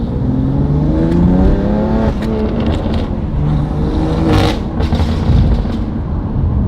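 A loud, close engine roars and climbs in pitch as a BMW F87 M2 accelerates hard, with a continuous throaty exhaust drone throughout.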